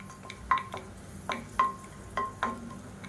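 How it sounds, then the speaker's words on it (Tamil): A large lump of asafoetida fries in oil in a pan, with a steady low bubbling bed and about half a dozen sharp, close scraping or crackling bursts at irregular intervals. "கட்டி பெருங்காயம் பெரிய சைஸில் எடுத்திருக்கேன். இதை நல்லா பொரிச்சு எடுத்துக்கலாம்."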